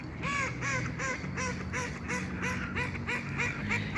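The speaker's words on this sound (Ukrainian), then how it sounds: "Дивіться, скільки качок плаває." A flock of ducks on open water in a park in early March quacks and honks repeatedly, a busy overlapping chorus of nasal calls, close and lively, with a faint low hum behind.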